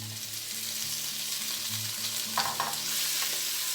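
Potatoes and vegetables sauté in a pan for a vegan curry, a soft, continuous sizzle over a low, pulsing hum, with a few light utensil clicks toward the end.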